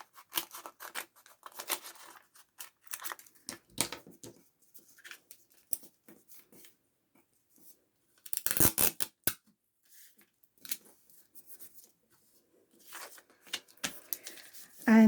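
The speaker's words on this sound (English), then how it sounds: "just need to trim there, trim there. And then just trim there." Scissors trim paper for a vellum tuck pocket, sharp close snips in short irregular bursts with quiet gaps between, plus a longer run of rapid cuts partway through.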